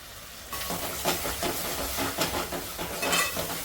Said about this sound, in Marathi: मस्त मसाला फ्राय करून घेते